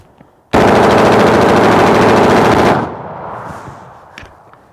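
An AR-15 rifle fires a long, dense, continuous burst at close range, loud and unbroken for over two seconds, then cuts off into fading echo and faint scattered clicks, with no talk.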